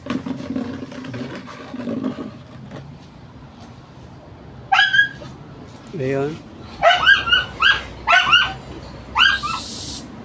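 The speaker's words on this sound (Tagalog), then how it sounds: "Dinig tayo yung aso natin." A dog at a rural hut construction site, where concrete work is being finished, gives several sharp barks and yips in quick bursts near the end, following earlier low whimpering, while people talk nearby.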